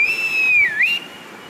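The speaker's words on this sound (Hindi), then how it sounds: "सीटियाँ बजा रहे हैं।" A person whistles a single sustained, fairly loud tone that dips and rises again, with crowds waving across the Indian border in Kashmir; no talk, faint background below.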